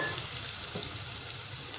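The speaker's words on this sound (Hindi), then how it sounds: "ये देखिए मैंने आधा कप ऑयल ले लिया। अब उसके अंदर जो मैंने प्याज को पीसे थे ना वो मैं डाल दूँगी इसके अंदर।" Ground onion paste frying in half a cup of hot oil, a steady bright sizzle with faint stirring, close and even throughout.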